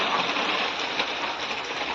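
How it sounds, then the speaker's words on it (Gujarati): Heavy rain pours steadily in Jetpur, a dense continuous hiss of drops with no voices. "અત્યારે જેતપુરમાં ફૂલ વરસાદ છે"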